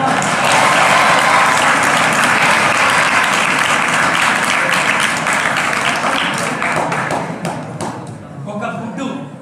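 Loud, sustained applause from an audience at a motivational speech by film actor K V Pradeep, dense clapping that thins into scattered claps toward the end.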